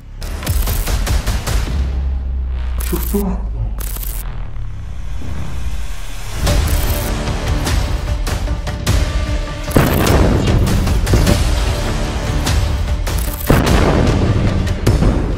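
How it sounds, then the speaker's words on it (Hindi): Battle in a building during the Israel–Hamas war, with loud, dense bursts of gunfire and booming blasts overlapping continuously for about fifteen seconds, close and harsh throughout. "तभी उनके ऊपर हमास के लड़ाके दनादन रॉकेट फायर कर देते हैं।"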